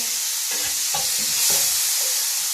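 Banana slices fry in a pan with a bright, steady sizzle, while several soft stirring knocks and scrapes land in an uneven rhythm over the continuous hiss, close and fairly loud, with no voices.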